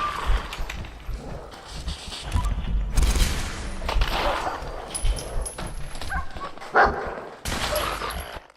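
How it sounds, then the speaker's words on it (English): Attack dogs in the virtual-reality game Fallout 4 VR bark in loud, close bursts. The barks come among thuds and rapid, gunfire-like clatter, with brief pauses between the bursts. "There we go, we had attack dogs."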